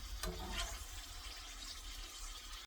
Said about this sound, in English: the pasta water is boiling